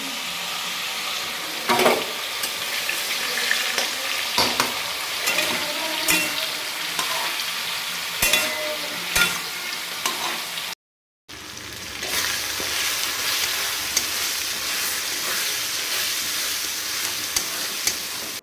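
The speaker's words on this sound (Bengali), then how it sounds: "মাটনের জন্য মশলা কষাচ্ছি" Spice paste for mutton sizzles and fries in a pan, a steady close crackle with occasional stirring scrapes, cut by a brief silent gap before resuming just as strongly.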